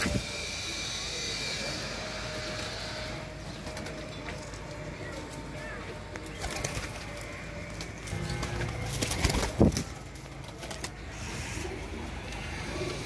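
Pigeons, including a black-tailed bird kept by a fancier, coo softly amid rustling and clattering in a loft, with low mechanical noise and scattered knocks throughout.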